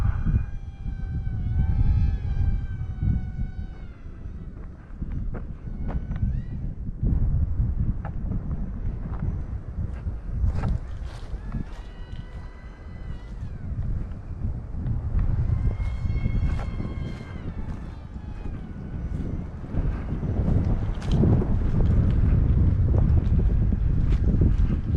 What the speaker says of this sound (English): It seems like every time I try to fly, it gets windier and windier and windier.